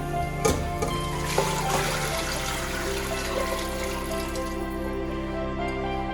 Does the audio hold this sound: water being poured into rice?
yes